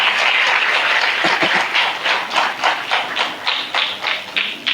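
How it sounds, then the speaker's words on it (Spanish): Church congregation applauding loudly and steadily, a dense wash of many hands clapping close by, pulsing slightly in waves as it carries on. "Hey, denle ese fuerte aplauso."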